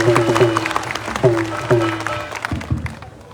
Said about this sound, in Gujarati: અનંત સાહેબ માટે જોરદાર તાળી પાડો